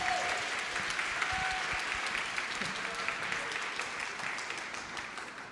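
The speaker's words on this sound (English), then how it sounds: "Can we have another round of applause for Art and Code" Audience at a tech conference talk session on art and code gives a sustained round of dense applause, steady and fairly close throughout, with no distinct voices standing out.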